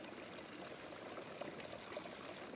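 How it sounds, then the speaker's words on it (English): A small stream of water in the Colorado backcountry runs and trickles steadily, soft and continuous with no other sounds. "it's nice to see some running water here. Certainly sounds pretty."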